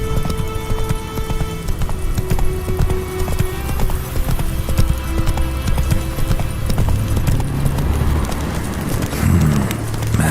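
The horse Roach's hooves clip-clop steadily across the ground in the video game The Witcher 3, close and rhythmic, with game music and ambience underneath.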